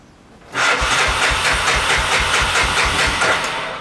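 A 1988 Honda 300 Fourtrax ATV engine, started with a little choke, catches after a half-second of quiet and keeps running loud and close with a steady, rhythmic chugging clatter, no voices.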